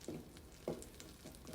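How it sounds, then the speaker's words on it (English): Butter sizzles gently in a pan before asparagus goes in, a quiet crackling hiss punctuated by a few brief spitting pops, close and without speech. "Okay, I hear it's starting to sizzle."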